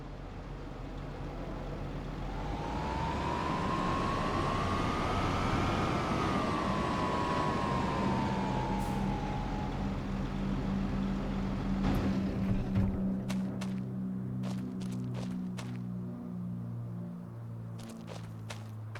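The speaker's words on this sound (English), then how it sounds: "now let's put the tractor away." A tractor drives in the Farming Simulator 25 video game, its steady engine drone rising and falling in pitch as it moves, with a cluster of sharp clicks and knocks near the end.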